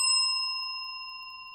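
A single bell strike on a saloon radio show, one clear metallic ding with pure ringing tones that decays slowly over more than a second, heard alone.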